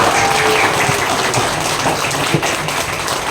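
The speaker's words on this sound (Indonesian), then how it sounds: "semuanya tepuk tangan yang meriah sekarang untuk Masida" Applause from an event audience: a dense, steady wash of many hands clapping, loud and sustained throughout with no voices over it.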